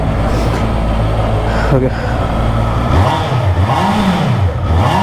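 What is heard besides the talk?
Honda CBR650R 650cc inline-four motorcycle engine revving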